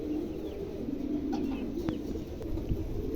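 New adult pigeons, a pair around eight to ten weeks old, coo softly with low throaty murmurs amid steady background noise, a few faint chirps from other birds in the distance.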